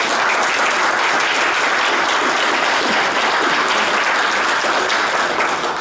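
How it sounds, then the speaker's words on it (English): Steady applause from an audience at the close of a January presentation on unmanned aerial systems, dense and sustained at an even level throughout with no talking over it. "So let's have a round of applause for that."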